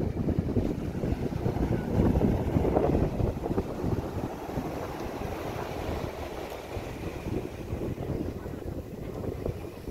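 Steady roar of ocean waves and surf mixed with gusting wind buffeting the microphone, continuous and fairly loud throughout.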